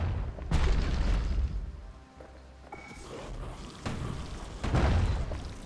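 Grenade blasts in the video game Bastion, with several deep booming bursts spaced through a busy game soundscape, loud and low, rising again near the end.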